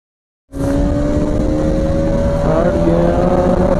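A Bajaj Pulsar RS 200 motorcycle starting abruptly and accelerating hard in first gear during a top speed test, the loud close engine tone rising steadily in pitch with a slight shift in tone partway through.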